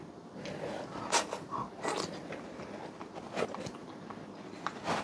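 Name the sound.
eating young coconut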